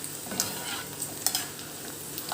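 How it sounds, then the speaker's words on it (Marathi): Sprouted legume usal deep-frying in hot oil for fasting chivda, a soft continuous bubbling fry with light clicks and taps of a slotted spoon, close and quiet. "त्याच पद्धतीने ही उसळ अगदी छान तळल्या जाते"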